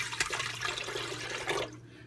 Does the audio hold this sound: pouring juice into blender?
yes